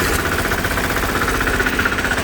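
A Bolens garden tractor engine runs in the snow, a loud continuous mechanical drone with rough knocking texture that holds steady throughout, no clear drop in revs evident.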